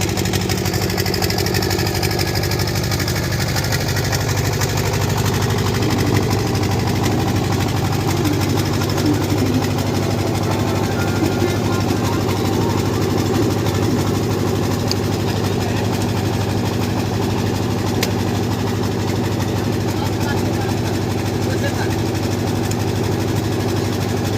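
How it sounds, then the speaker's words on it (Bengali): A brick-making clay mixing machine runs while a JCB loads soil into it, giving a steady, loud mechanical engine drone with constant vibration throughout, no voices over it. "ইট বানানোর এই যে মাখানো মেশিনে জেসিবিতে মাটি দিচ্ছে মেশিনে মেশিন থেকে মাটি মাখিয়ে"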